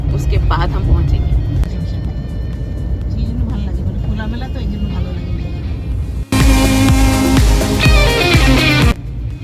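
A hired car drives along a road in Bengal, India, its engine and tire rumble steady inside the cabin, with a louder burst of road noise near the end and people talking over it.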